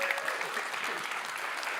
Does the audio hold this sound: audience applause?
yes